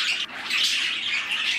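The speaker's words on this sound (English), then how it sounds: "Because she's a female budgie," A female budgie chirps and twitters continuously at close range, a dense, bright stream of high tweets with no pauses and no talking.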